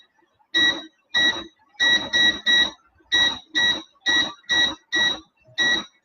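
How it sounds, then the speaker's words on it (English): Kitchen cooking timer beeping in a steady series of about eleven short, loud electronic pulses, some in quick pairs, with no talk over them. "I'm going to put that timer on again."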